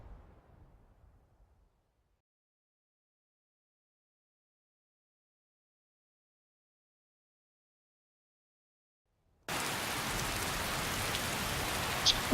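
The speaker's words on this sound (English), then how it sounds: "It's always raining in Riverwood." Rain falls in Riverwood in the video game Skyrim, starting abruptly after a long stretch of near silence and continuing as a steady, even patter with one sharper sound at the very end.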